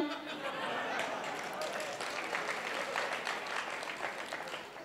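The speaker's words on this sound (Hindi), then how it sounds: "ये 8-10 लोगों ने उन्हीं ने ताली बजाई है" Faint, distant scattered clapping from a small group in the crowd at an outdoor Dussehra fair, continuous for several seconds and mixed with chuckles and crowd murmur.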